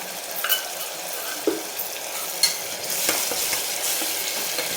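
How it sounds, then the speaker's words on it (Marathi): Onions with ginger and garlic fry in a pan over a high gas flame for a mutton masala curry, a steady soft sizzle broken by a few scraping stirs from a utensil. "गॅसची फ्लेम हायच ठेवायची, म्हणजे जेणेकरून आपला कांदा पण पटकन तळला जाईल"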